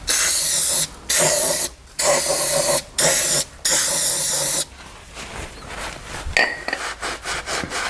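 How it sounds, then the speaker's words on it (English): Several short bursts of brake cleaner degreaser spray out of an aerosol can, loud and close, hissing in a quick on-off rhythm, then a quieter stretch of handling noise. "I use a brake cleaner to clean up the sides because that's a good degreaser"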